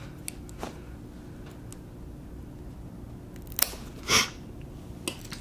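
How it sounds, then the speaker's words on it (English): A rabbit's nails being clipped with a nail trimmer: a couple of sharp, brief snips close by against a quiet background, with one louder click near the end. "I only close the trimmer really quickly to cut off the nail"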